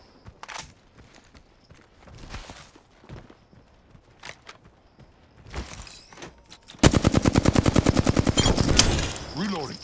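Rapid automatic gunfire from the video game Apex Legends, fired in a loud, tightly spaced burst of shots lasting a few seconds. Quieter in-game footsteps and scattered clatter come before it.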